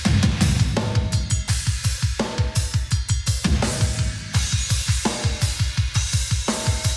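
A recorded rock drum kit without overhead microphones, heard in a mixing demo, plays a driving fast groove of rapid kick drum hits with snare and cymbal accents, loud and close, with no talking.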